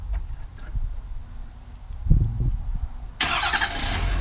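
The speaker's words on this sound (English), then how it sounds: "It's got a neat feature called remote engine start." A 2015 Ford F250 Lariat with the 6.7 diesel engine starting by remote start: faint clicks and a brief thump, then the engine abruptly cranks and catches near the end, running loud and rough.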